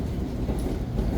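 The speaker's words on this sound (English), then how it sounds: "We're on the bullet train." Steady low rumble of a Japanese bullet train in motion, a dense continuous drone with faint rhythmic rattling, heard from inside the carriage.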